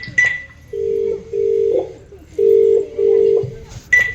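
A phone call goes unanswered as a clear ringback tone repeats two double-pulse rings, close and steady, with short gaps and brief clicks around them.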